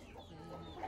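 Desi hens on a Bangladeshi backyard farm cluck softly in a short, faint burst of low murmuring calls with no talk.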